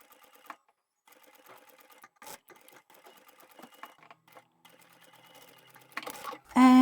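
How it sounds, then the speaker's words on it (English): A sewing machine stitches fabric right beside a stabilizer edge in short, quiet runs of rapid ticking with brief stops, ending in a louder burst of handling noise. "With right sides facing, I'm going to sew right beside the edge of the stabilizer."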